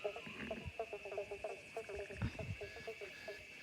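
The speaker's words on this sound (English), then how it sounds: "So I might leave you with the symphony and sounds and music of the frogs" Frogs call from a garden pond, a faint chorus of quick repeated croaks and chirps in uneven bursts over a steady high insect-like trill, soft and somewhat distant.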